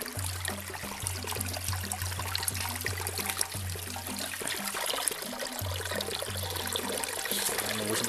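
Clean spring water trickles steadily through a small dug channel beside a river, a constant close wash of liquid with a faint low hum underneath and no voices.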